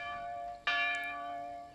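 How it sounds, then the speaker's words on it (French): A church bell in a Norwegian village rings out with a clear, resonant strike followed by a long, slowly fading hum, and a second strike begins just as the sound ends. "la cloche de l'église appelle les gens des fermes et des maisons de pêcheurs lointains de venir à l'église de Vorgan"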